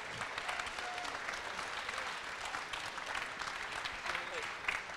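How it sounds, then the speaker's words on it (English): Audience applause at a book launch celebration, a steady wash of clapping held at moderate level throughout, with faint voices mixed in underneath. "Let's give another round of applause."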